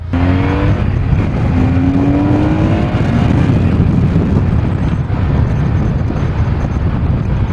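A BMW R1100S shaft-driven motorcycle engine accelerates under a loud, steady roar and heavy wind rush, with the engine note rising in pitch through the first few seconds and then the sound holding constant while riding.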